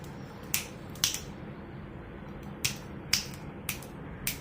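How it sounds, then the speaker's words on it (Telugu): Hand claps ring out sharply and close by, about eight in total, coming in irregular pairs and singles with short gaps of quiet in between. "claps claps"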